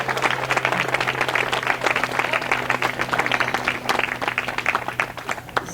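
Enthusiastic applause from a school audience for 8th grade spoken word poetry performers, dense rapid clapping filling the room for several seconds, with a low steady hum underneath.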